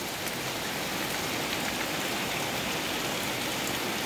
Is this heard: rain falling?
yes